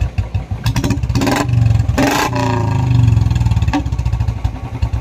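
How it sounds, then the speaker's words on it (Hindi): A Royal Enfield Bullet 350 with a changed bend pipe exhaust revs up close by, its thumping single-cylinder idle rising into two long, loud throttle blips before dropping back to a pulsing idle. "अब दो भाई एक्सीलेटर"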